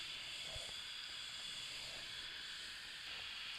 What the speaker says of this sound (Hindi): ये देखिए चाशनी हमारी पकना शुरू हो गई है